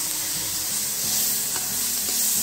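Garlic and green chili paste with curry leaves fries in a pan for kadhi, a steady close sizzle with soft stirring scrapes and no talking.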